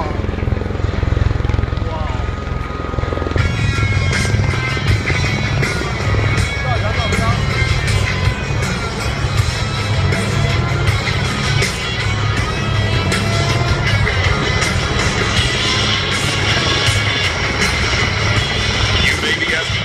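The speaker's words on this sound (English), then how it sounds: "Aircraft will now decelerate to a hover in front of the crowd." A hover-capable plane at the Singapore Air Show 2014 slows to a hover before the crowd, its engines roaring loudly and continuously with a broad, churning drone while an announcer talks over it.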